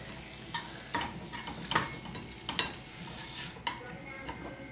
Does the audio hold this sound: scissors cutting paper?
no